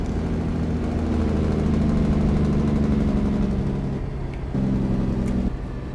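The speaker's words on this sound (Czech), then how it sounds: "ta motorová brzda má úplně skvělý zvuk" A truck's engine brake in American Truck Simulator drones in a deep, rumbling tone, cutting out briefly and then returning, loud and close with no talking.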